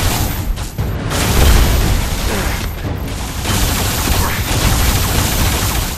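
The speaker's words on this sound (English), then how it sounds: "Who's shooting the grenades?" Grenades and gunfire in the shooter game Alien Rage: loud, continuous booming blasts with rattling automatic fire, rising in several heavy waves across the stretch and never dropping to quiet.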